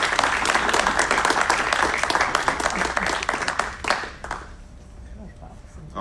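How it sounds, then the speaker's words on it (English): A round of applause at a media briefing award presentation, crowded clapping loud for about four seconds before thinning out and fading into quiet room tone. "Let's give them a round of applause."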